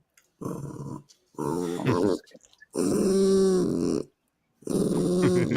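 A dog growls in several low, rumbling bursts with short pauses between, close by and fairly loud, alternating with a whiny, vocal grumble.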